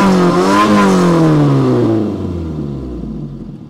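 A Peugeot 405 petrol engine with a carburettor, running without the choke, is revved once, its pitch climbing and then sliding back down to a steady idle. It sounds close and loud, with no voices.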